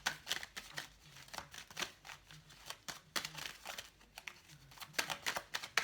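Tarot cards being shuffled up close, a quiet, irregular run of riffling and soft papery flicks in uneven bursts.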